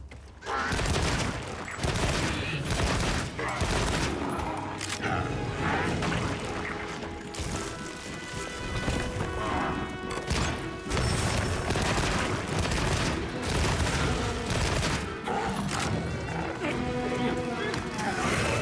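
Light Bowgun firing in Monster Hunter Wilds, dense rapid volleys of shots and impact crashes, loud and nearly continuous, with someone talking over the gunfire throughout.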